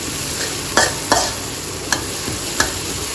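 Scallops are stir-fried in a pan with chili and garlic, a steady sizzle running under a few sharp scraping clicks of a spatula as the ingredients are tossed together, with no talking.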